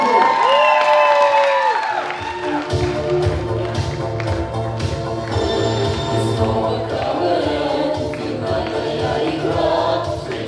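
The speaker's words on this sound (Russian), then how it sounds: "БТИ, аплодисменты!" A student comedy-league final crowd claps and cheers loudly, starting with shouts and whoops, then settling into rhythmic applause with music playing underneath and occasional thumps.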